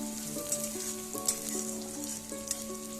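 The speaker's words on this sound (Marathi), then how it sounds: "कांद्याला लालसर रंग येईपर्यंत चांगला परतून घ्यायचा आहे, जेणेकरून तो कच्चा नाही राहणार." Chopped onion sautés on a medium flame with a quiet, steady sizzle and a few light stirring clicks, while a faint tonal hum runs underneath.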